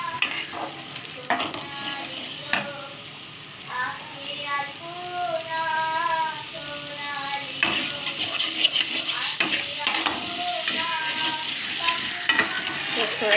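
Poppy seed paste fries in a pan for a ridge gourd and potato posto dish, with steady sizzling and repeated stirring scrapes throughout, while a voice sings faintly in the background.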